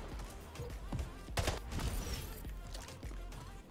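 Rapid gunfire from the arena shooter Splitgate crackles in quick faint bursts, a string of shots at moderate distance with a louder cluster partway through, no voices.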